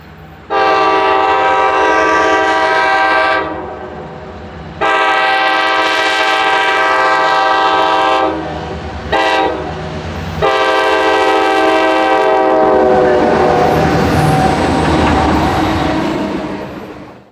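Fall foliage excursion train led by locomotive 2102 with F units, its horn sounding in long, loud, close blasts with short breaks between them, followed by a rushing passing roar.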